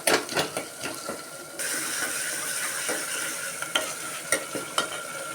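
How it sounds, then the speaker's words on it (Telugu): Tomatoes frying in a pan for fish curry, a close sizzle under repeated scraping and clicking stirs, the frying growing louder and steadier partway through. "ఇదో టమాటా ఇప్పుడు బాగా ఫ్రై అవ్వాలండి."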